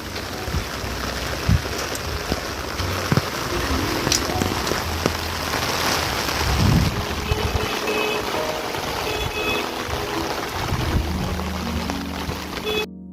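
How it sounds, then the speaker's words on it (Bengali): Heavy torrential monsoon rain pours down steadily and loudly, a dense close hiss of drops drumming on surfaces with no talking throughout. "দেখুন হচ্ছে মুষলধারে বৃষ্টি, কেমন জোরে জোরে।"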